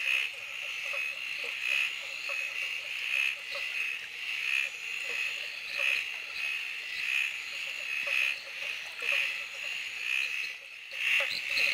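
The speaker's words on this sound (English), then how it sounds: "Under here somewhere is a pair of banjo frogs mating" Banjo frogs mating in a Scenic Rim pond, a chorus of repeated sharp resonant plonks pulsing steadily over several seconds, clear and moderately close with no talk.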